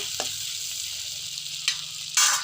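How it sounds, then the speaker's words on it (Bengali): Rohu fish fat frying in a pan makes a steady, close sizzle with a few sharp spatters and a louder burst of crackling at the end, with no voices over it. "মাছের তেলটা ভেজে নিচ্ছি"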